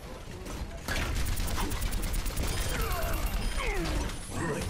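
Rapid mechanical clatter of an enemy turret firing in Overwatch, a dense ratcheting burst that runs steadily for several seconds, loud and close amid game noise.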